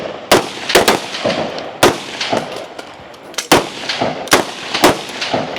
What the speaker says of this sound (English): Looking at 12 shots here, and it's about 90 yards out.